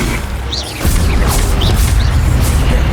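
Spell effects from the video game Hogwarts Legacy as the Expelliarmus disarming spell is cast: a loud, dense whooshing boom that swells about a second in and keeps roaring, with brief bright zips flickering over the rumble.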